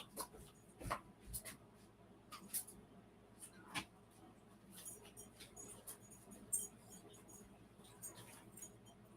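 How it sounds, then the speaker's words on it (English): A dog scratching and tearing at floor covering indoors, producing faint, irregular scraping and ripping bursts with quiet gaps between them. "My dog's over here trying to tear up my floor covering."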